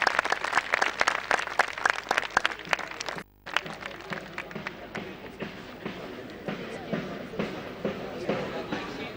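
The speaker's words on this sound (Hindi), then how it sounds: "उनको परिवारों के लिए भी आप एक बार तालियां जोर से जरूर बजाएं" An audience at a volunteer award ceremony claps for the families, a dense burst of applause that breaks briefly, then resumes as steadier, thinner clapping.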